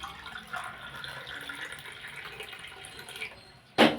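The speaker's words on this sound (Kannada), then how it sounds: "ಈ 1 ಗ್ಲಾಸ್ ನೀರನ್ನ ಇದಕ್ಕೆ ಹಾಕ್ಯಂತ ನೋಡ್ರಿ" Lukewarm water is poured into a glass in a steady, moderately loud trickle lasting a few seconds, ending with a brief sharp clink.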